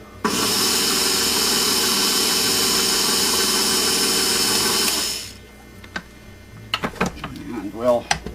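An electric mixer beats chocolate cheesecake batter with a loud steady whirring drone that winds down after about five seconds, followed by clatters of the beater and scraping, with a voice speaking afterward.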